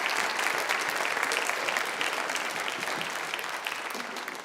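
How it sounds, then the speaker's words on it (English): Steady applause from a school band festival audience, many hands clapping at once in a dense, continuous patter that slowly fades over a few seconds. "let's give her a round of applause."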